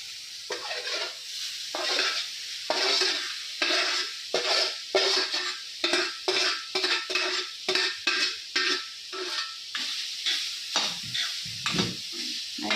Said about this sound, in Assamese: ইয়াত মই এতিয়া নাৰিকলখিনি দি নাৰিকলখিনি ভাজি ল'ম।